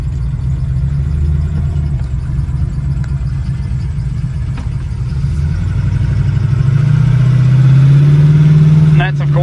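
A 1968 Camaro with a Blue Print 400 small block V8 idles with its Y-pipe headers closed, a steady low rumble that swells louder toward the end, while someone talks over it.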